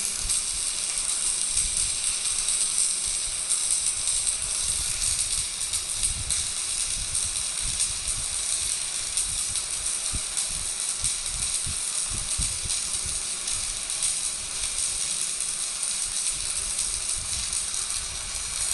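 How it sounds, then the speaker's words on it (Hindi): Arc welding with a stick electrode held at a constant gap over a steel workpiece, giving a steady, continuous crackling sizzle with dense high hiss that runs without a break, loud and close, with no voices. "धीरे धीरे वेल्डिंग को प्रोग्रेस करते हैं by keeping the gap between electrode and workpiece constant."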